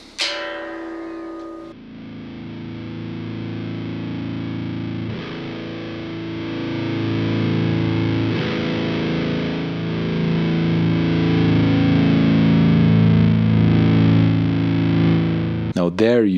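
Electric guitar through JPTR FX Double Jive overdrive pedals with an orange pedal stacked, sounding as a single sustained, thick distorted chord that rings out and gradually swells, loud and close, followed by a brief pick scrape at the end.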